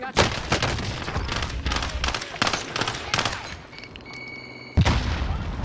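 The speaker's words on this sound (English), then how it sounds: "Throw a grenade up there." Video game firefight with rapid bursts of gunfire in clustered volleys, then a sharp loud blast near the end suggesting a grenade, heard over faint game noise.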